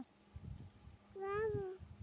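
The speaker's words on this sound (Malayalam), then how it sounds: "പൂച്ച എങ്ങനെയാ കരയാ? Meow meow." Soft, low talk is followed by a single clear, rising-and-falling cat meow close by.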